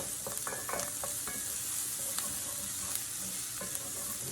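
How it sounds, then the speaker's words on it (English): Onion sauteing in a pan, a steady close sizzle with scattered clicks and scrapes of stirring, no voices. "Put the onion sauteed down."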